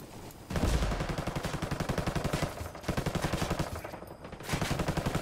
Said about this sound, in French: Tire à travers, tire à travers.